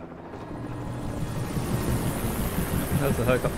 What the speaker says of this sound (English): That's the helicopter.